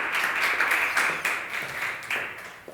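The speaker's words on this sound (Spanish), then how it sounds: "Un fuerte aplauso y bienvenidos." Audience applause welcomes the presenters at a data talent workshop, a short burst of moderately loud, steady clapping that eases slightly toward the end.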